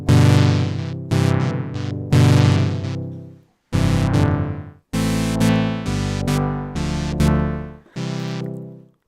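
Synth notes played on a Roland MV-8800 with an envelope shaping each tone, heard as a series of loud, bright, harmonically rich chords that each swell and fade before short gaps, with no voices.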